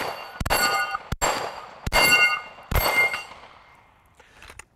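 Rifle shots ringing off the steel plates of a Texas Star target, four sharp impacts spaced about a second apart, each followed by a bright metallic clang that decays, then faint rattling of the spinning target.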